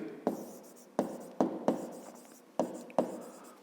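A pen writing on paper while a fifth-grade math exercise is noted down, giving several short, close scratching strokes at irregular intervals, with no talking.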